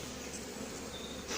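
A honeybee swarm on a branch gives off a steady, close, dense buzzing hum for a short moment.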